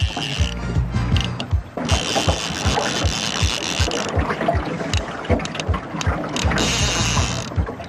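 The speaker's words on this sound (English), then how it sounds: "The loud whining of the reel indicates that the fly managed to attract a real thumb burner." A fishing reel's drag whines and clicks in fast ratcheting bursts as a hooked fish pulls line near a beaver dam, loud and close, surging and easing without pause and with no talk.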